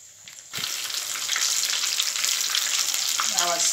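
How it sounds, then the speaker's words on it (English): A scotch egg fries in hot oil, a loud, close, continuous sizzle that jumps up after a brief quieter start and keeps crackling steadily with small spits. "So we're going to allow it to the side that is inside the oil to be golden brown."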